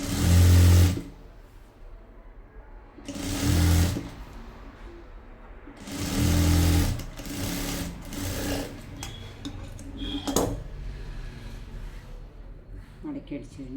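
Sewing machine stitching a folded kurti sleeve hem, three loud bursts of rapid whirring stitching separated by pauses, close up, with a person talking in between.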